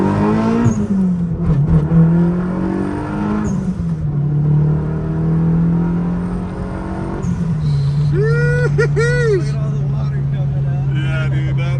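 Toyota MR2 SW20 on a quick acceleration pull, engine note loud and close, rising in pitch with gear changes and settling into a steady drone, with whistling turbo-like sweeps toward the end.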